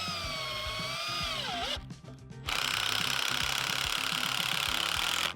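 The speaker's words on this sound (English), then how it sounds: "Put a screw here." A power drill whines at high speed driving a screw into wooden shelves, its pitch dropping as the screw seats, then after a brief pause it runs again at full speed.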